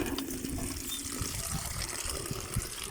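Water from a hand pump runs over guava being washed, a steady splashing flow close by with small irregular knocks and trickles, and no clear talking.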